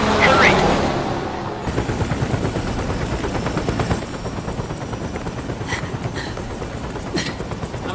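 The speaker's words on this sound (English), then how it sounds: "Snake, I'm setting the chopper down at the market square." A military helicopter sets down in a war-torn market square in Metal Gear Solid 4, its rotor thudding steadily and loudly amid scattered gunfire, with a voice speaking over it.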